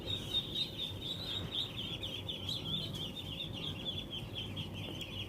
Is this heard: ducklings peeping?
yes